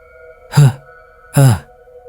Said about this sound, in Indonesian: Suara napas berat, seperti perempuan sedang menangis pelan-pelan.